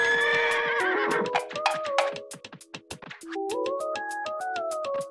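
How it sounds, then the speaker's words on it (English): A horse gives a loud, shrill whinny that falls in pitch, followed by a burst of sharp clicking taps like hooves, then a second, higher neigh. No one speaks. "Horse."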